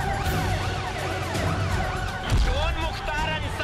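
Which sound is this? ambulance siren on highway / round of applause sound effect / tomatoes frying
ambulance siren on highway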